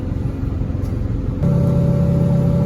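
An engine in a Jeep or Ford pulls hard at about 4,400 RPM on a hill climb, a steady close drone that grows louder and more tonal partway through, no talking.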